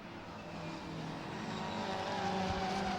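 Classic pre-1983 touring cars, including a Ford Escort, racing at Brands Hatch, a steady engine drone heard from a distance that swells slightly as the cars draw nearer.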